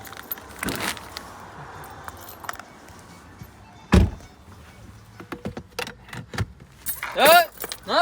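Car keys jangle and clink several times in quick metallic bursts as they are tossed, with a few dull thunks nearby and a person speaking toward the end.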